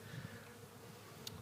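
Honeybees swarming around a catch box outdoors, a steady low insect buzz filling the short moment, fairly faint and continuous with no voices.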